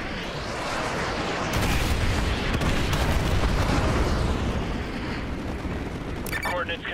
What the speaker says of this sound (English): use your laser designator to call in artillery on those vehicles. Fire mission received. Artillery inbound.